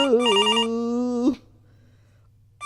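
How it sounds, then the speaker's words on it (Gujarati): A telephone rings loudly with a warbling electronic tone for over a second, stops, then starts ringing again after a short silence. "એટલે અત્યારમાં કોનો ફોન આવ્યો?"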